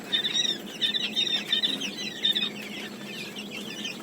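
Thai big-foot chickens cluck in a busy, repeated chatter of short calls, fairly close, with a low murmur of more birds beneath.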